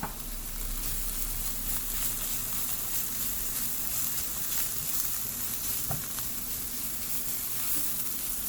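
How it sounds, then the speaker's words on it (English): Vegetables stir-fried with ginger and garlic over high heat in a pan, giving a steady, loud sizzle and hiss throughout with a faint scrape or clink of stirring near the middle. "We are going to stir fry all the vegetables on a high heat."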